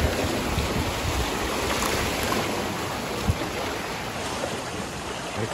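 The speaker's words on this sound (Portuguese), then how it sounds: "Aí, a água volta com força, ó." Ocean waves surge and wash back over the rocks at Praia da Ursa in Sintra, a loud, continuous broadband roar of rushing surf with wind, close by and without talk.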